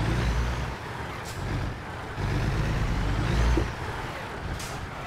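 Truck engine heard from outside the cab in American Truck Simulator near a mine, a low rumbling drone that swells and dips in loudness, with a couple of brief hissing bursts.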